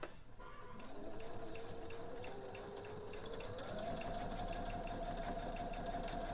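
A home sewing machine runs steadily down a bulky seam, a faint continuous whirring hum whose pitch rises slightly partway through, heard alone without talk.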